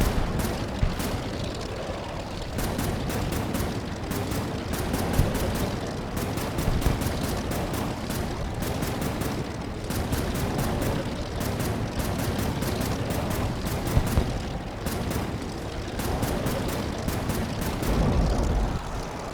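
Dense, sustained rapid-fire gunfire from aircraft in the Air Wars 3 video game, with rattling bursts of shots and booming blasts layered over a constant loud roar, with no voice over it.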